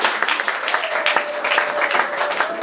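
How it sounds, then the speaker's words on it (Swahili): A congregation at a Swahili-language church gathering breaks into loud, dense applause, many hands clapping together continuously throughout. "Jamani, makofi kwa Yesu."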